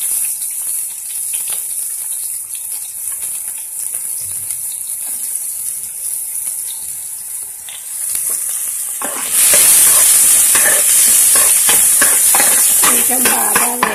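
Onions and green chillies fry in a pan: a steady hiss at first, then a louder, denser sizzle with crackles from about nine seconds as more goes into the hot oil, no talk.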